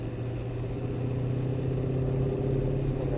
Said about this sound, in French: On accélère un petit peu, on passe la 3.